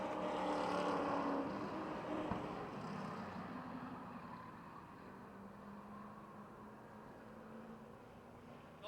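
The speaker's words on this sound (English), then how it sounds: "And out of turn 4, Joe Nicola with his 5th heat race win of the season." Late model stock cars racing at Motordrome Speedway: a steady, distant engine roar from the pack that fades slightly over the stretch, with no talk.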